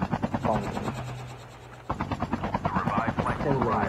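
Helicopter in a video game: a close, pulsing rotor thump throbs steadily, briefly dips, then resumes under a speaking voice.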